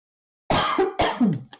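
Two or three harsh, close coughs in quick succession, loud and raspy, after a moment of silence.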